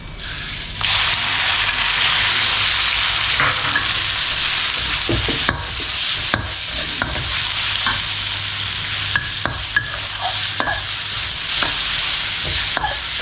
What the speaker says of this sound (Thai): ผัดให้หอมหลังจากนั้นก็ตามด้วยหมูสามชั้นนะครับ